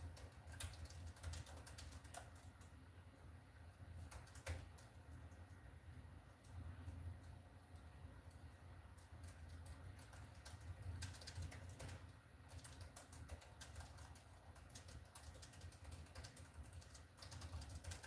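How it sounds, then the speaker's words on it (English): Computer keyboard typing runs steadily throughout as a dense stream of small clicks and taps, moderately quiet and close, with a low background hum and no talking. "Wow, you can hear my typing."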